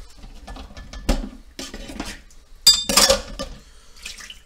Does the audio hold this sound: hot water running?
yes